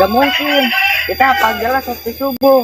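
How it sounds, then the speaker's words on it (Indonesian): Rooster crowing at dawn prayer time, its long wavering calls running under close, continuous talk from people nearby. "ada suara ayam berkokok juga"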